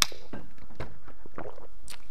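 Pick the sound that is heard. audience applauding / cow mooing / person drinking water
person drinking water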